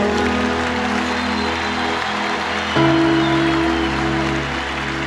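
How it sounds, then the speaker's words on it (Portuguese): A church congregation applauds in praise, a steady, rustling wash of clapping over sustained musical chords that shift partway through. "Aplauda ao Senhor"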